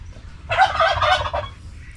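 A single rapid gobble from a turkey, a short warbling burst close by over a low background rumble.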